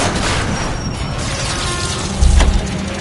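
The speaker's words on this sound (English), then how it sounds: "I'll try to shoot out his tires." In L.A. Noire, a single heavy gunshot booms near the end, aimed at a fleeing car's tires, rising above a constant rumble of driving noise.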